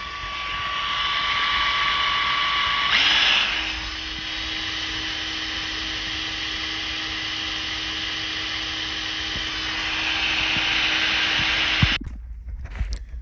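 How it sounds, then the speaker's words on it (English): A pump draws old engine oil from a 350 Mercruiser inboard boat engine during winterizing, giving a steady, loud mechanical whir and hiss that runs unbroken for about nine seconds before cutting off abruptly. "So we're pumping oil now."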